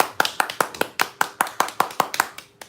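Steady hand clapping at a live singing session, about a dozen sharp, evenly spaced claps close by, with no talking over them.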